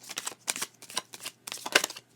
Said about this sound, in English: I'm going to shuffle on camera because it's relaxing to me and to viewers as well.